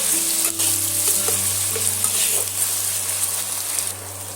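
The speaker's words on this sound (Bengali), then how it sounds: "নুনটা দিয়েও আবার আমি কিছুক্ষণ ধরে এইভাবে কষাতে থাকবো পেঁয়াজ আর টমেটোটা দিয়ে" Onion and tomato with salt stir-fried in a pan for dum aloo, a continuous close sizzle and frying hiss with soft stirring scrapes, no talk.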